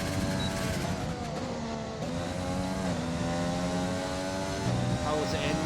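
F1 car engines racing a lap at the British Grand Prix in F1 2020, high rising and falling engine whine with gear shifts, one car slipstreaming another, under continuous commentary.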